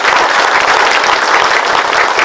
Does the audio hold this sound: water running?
no